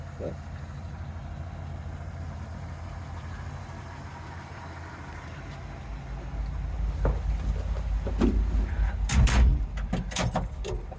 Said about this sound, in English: these doors shut